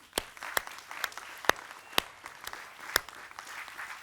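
Audience applause at the christening of the cruise ship Seven Seas Grandeur, a soft, steady patter of clapping from a crowd with a few sharper individual claps standing out.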